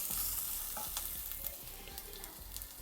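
Herbs and aromatics frying slowly in oil for a Sri Lankan pepper beef curry, a steady soft sizzle with light crackle and occasional stirring scrapes, close by with no talking.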